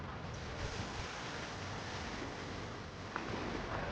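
Sea waves at Rock Garden, Malvan, on the coast, a continuous broad wash of surf mixed with wind noise, steady and moderately distant, with no talking.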